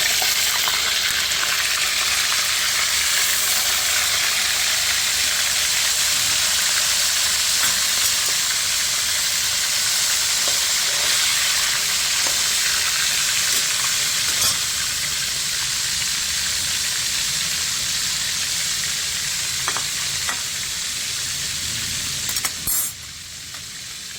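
Fermented fish sizzles in hot oil in a pan in a steady, hissing, crackling wash that goes on unbroken for a long stretch, close and fairly loud, with faint clinks.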